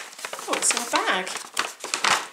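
Thin plastic bag wrapping a new large jigsaw puzzle crinkles loudly and close as it is handled, in short rustling bursts. A voice talks over part of it.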